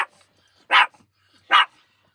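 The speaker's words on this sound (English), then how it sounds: "That's why Tiffany's barking," Tiffany the dog at a campsite at Flukers Brook Farm gives two sharp, loud barks spaced under a second apart, with quiet pauses between them.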